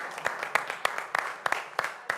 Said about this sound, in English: I'd like to give a round of applause to our department heads council members.